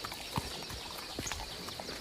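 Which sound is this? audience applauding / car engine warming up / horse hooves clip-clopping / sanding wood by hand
horse hooves clip-clopping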